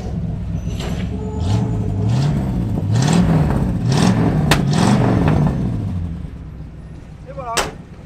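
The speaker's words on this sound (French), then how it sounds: "Et si tu vas à l'arrière, tu peux entendre un peu mieux l'échappement." A Big Block Chevy engine in a C20 truck revs up and down several times from the rear, its exhaust rising and falling in a throaty rhythm before settling back to idle, close and loud.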